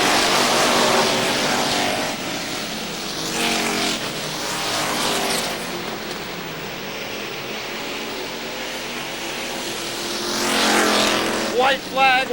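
Street stock race cars roar around an oval track in a 1997 race, engine noise swelling and fading as the pack passes, with an announcer calling the action over the din.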